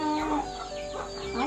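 Chickens cluck close by at a rural farmhouse, several short hen calls rising and falling over faint background, with a rooster-like note among them.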